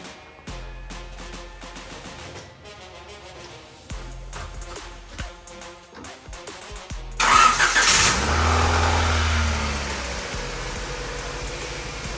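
A 1993 Honda Civic Si B16 engine, after timing belt repair, cranks with a rapid rhythmic whirring for several seconds, then catches and roars to life, settling into a loud, steady idle.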